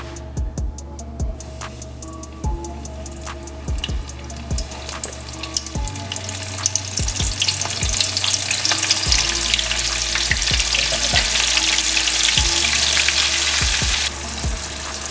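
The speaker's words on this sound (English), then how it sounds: "Now that we got this oil heated up to 425, we're gonna add this shrimp, let it cook for about 2 to 3 minutes." Shrimp for a po'boy sandwich fry in oil heated to 425 degrees, a loud, dense, continuous sizzle up close that swells partway through, with a regular ticking running underneath.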